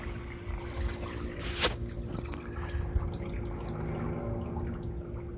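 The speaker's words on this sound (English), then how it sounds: "All of that's going to come out. And it just drain out over here." Water draining out of pool equipment at a mobile pool service job in Las Vegas, a faint steady trickle with scattered drips and one sharp splash, heard alone without talk.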